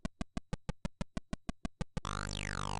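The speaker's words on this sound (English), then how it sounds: "It's basically your basic beeps and boops and this little clicking" ZX Spectrum game Nohzdyve: a dozen crisp, evenly spaced electronic beep-clicks in a steady rhythm, then a sustained buzzy tone with a sweeping falling chirp, close and clean with no voices.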